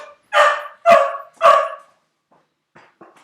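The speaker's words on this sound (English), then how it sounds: "that's my dog" Three sharp barks from a dog indoors in quick succession, loud and close, followed by silence and a few faint, soft sounds.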